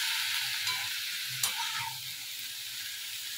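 Food frying in a pan at home: a steady, bright sizzle with one sharp utensil clack partway through, then a slightly quieter hiss, with no talking.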